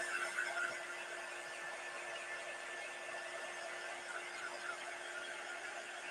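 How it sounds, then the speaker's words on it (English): A dryer running during a craft project, a steady whirring hum with a constant high-pitched tone, moderately loud and unchanging throughout, with no talk. "I don't know if you can hear me over my dryer"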